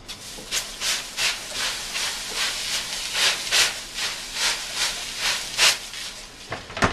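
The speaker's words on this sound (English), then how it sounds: "You want to spray to mist inside the oven" A spray bottle mists water inside a hot oven while sourdough bread bakes, giving about fifteen short, sharp hissing bursts in a steady rhythm, each one close and distinct.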